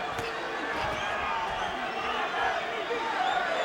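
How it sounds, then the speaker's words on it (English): A boxing arena crowd at the Erik Morales vs Zahir Raheem fight roars and cheers in a dense, steady wash of noise that runs throughout, with voices mixed in. "The crowd has come alive."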